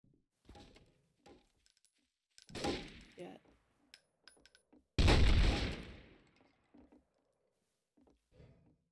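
Incendiary fire grenade in Garry's Mod, a sudden loud whooshing burst that fades over about a second, preceded by a softer blast and scattered game noises, with quiet moments between.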